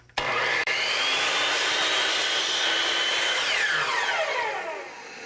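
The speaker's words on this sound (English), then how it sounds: "we cut the pieces to size on the chop saw, making a miter for the corners" A loud chop saw whines steadily through a mitered cut in wood for about four seconds, then winds down as the blade spins to a stop.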